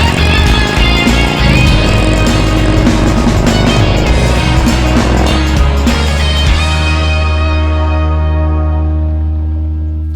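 A Harley-Davidson Low Rider S motorcycle riding at speed, with a loud, steady engine drone and rushing wind that stays strong throughout, then eases slightly toward the end.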